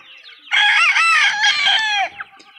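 A rooster crows once, loud and close, a long rising-and-falling call that trails off into a short cluck at a family farm homestead.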